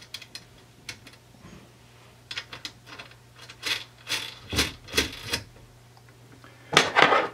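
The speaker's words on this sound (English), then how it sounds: "We'll tighten up the nuts" Nuts tightened down on battery terminal ring connectors while wiring an inverter, heard as light clicking, ratcheting metallic taps and scraping tool contact, close by and intermittent, louder toward the end.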